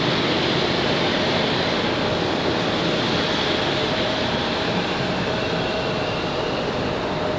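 A jet airliner takes off from runway 5 left at Raleigh-Durham International Airport, its engines producing a loud, steady, broadband roar that fills the whole stretch with no voices.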